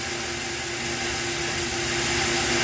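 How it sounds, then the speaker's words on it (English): A flow bench tests Edelbrock Performer cylinder heads from a small block Ford, giving a steady, loud rushing roar of airflow with a faint tonal hum that swells slightly toward the end, with no talking. "we're going to see what they do on the flow bench"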